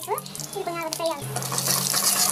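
Mustard seeds and cumin frying in hot oil in a home kitchen pan, a soft steady sizzle that builds and holds over a couple of seconds, with a brief voice at the start.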